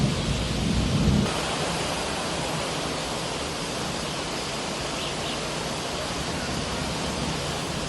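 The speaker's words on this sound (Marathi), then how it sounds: "दुपारी 1 वाजल्यापासूनच तुफान पावसाला सुरुवात झाली" Heavy monsoon rain pours down in the town of Uran, a dense, steady roar of rainfall on surfaces, with a slightly louder rumbling gust at the start.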